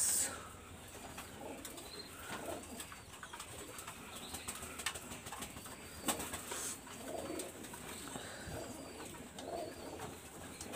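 Pakistani high-flyer pigeons, red-eyed, in a loft, soft intermittent cooing and occasional wing flutters over a faint background hiss, quiet and fairly close.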